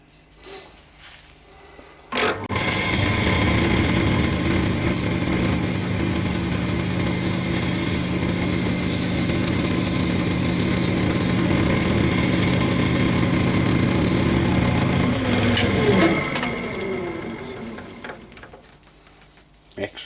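A wood lathe spins a rough piece of wood with bark still on it, a loud steady whirring drone running from about two seconds in and winding down near the end, with a voice talking over it.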